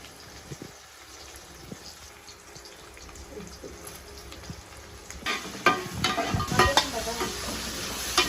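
Curry leaves, garlic and onion frying in oil for a Kerala fish curry, a low hiss that builds into louder crackling sizzle and stirring scrapes in the second half, close up with no voices.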